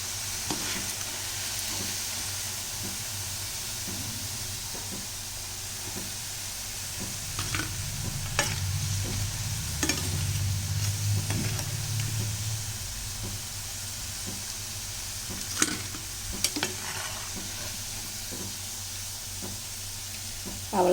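Raw banana kola balls deep-fry in oil while being stirred, a long steady bubbling sizzle broken by scattered clinks and scrapes of the spoon against the pan.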